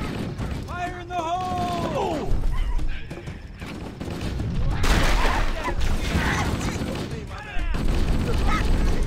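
A grenade blast and bursts of gunfire in Halo: Combat Evolved, rapid shots and a broad explosion mixed with game effects and voices shouting over the fight.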